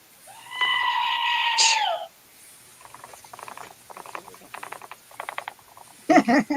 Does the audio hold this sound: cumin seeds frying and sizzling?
no